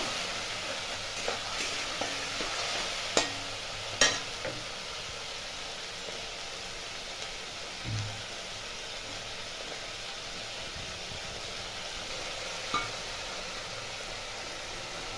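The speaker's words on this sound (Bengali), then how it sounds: "এবার মশলাটা তেল ছাড়ানো, যতক্ষণ তেল না ছাড়ছে ততক্ষণ কষে নেব।" Spice paste with salt and ground coriander fries in oil in a kadai for a cauliflower and potato curry. It gives a steady, low sizzling hiss, with a few soft knocks from stirring.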